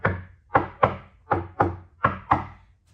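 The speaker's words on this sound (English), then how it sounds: "this is the sound of solid wood" Seven hollow knocks on a solid wood furniture panel, close and evenly spaced at a steady rhythm.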